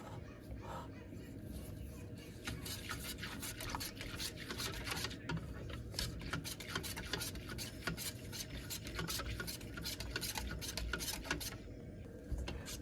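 A spoon scrapes and stirs rice pudding (ferni) steadily in a pot over heat, a continuous rasping with quick clinks, fairly quiet, with a low background hum.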